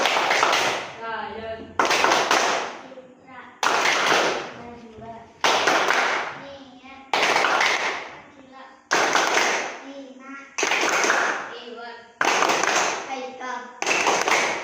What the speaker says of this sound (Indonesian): Ibu akan mengecek kehadiran kalian dulu satu-satu ya dengan menggunakan tepuk absen.